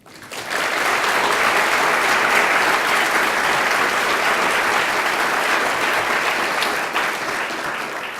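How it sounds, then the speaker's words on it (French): Audience applause at a French tourism industry gathering; loud, dense clapping swells in quickly after a brief quiet moment and holds steady, easing slightly near the end. "Donc je voudrais que nous applaudissions vos efforts depuis 20 ans."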